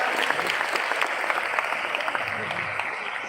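Enthusiastic group clapping fills an investment event hall, a dense, fairly loud patter of many hands that holds steady and tapers slightly toward the end.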